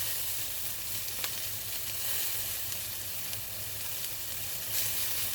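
Onions browning in a frying pan give a steady, close sizzle with faint crackles and an even hiss, with no talking.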